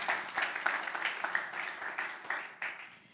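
Light applause from a church-style gathering after a fundraising announcement, quiet scattered clapping with uneven bursts, fairly distant and soft.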